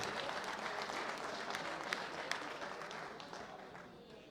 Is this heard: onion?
no